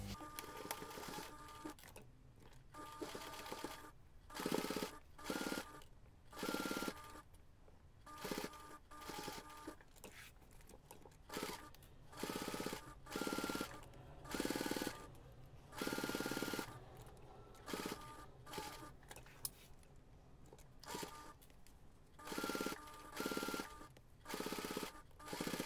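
Sewing machine stitching binding onto a DIY ring binder pouch, a rapid mechanical whirring hum running in repeated bursts of a second or two, broken by short pauses, heard alone and fairly close.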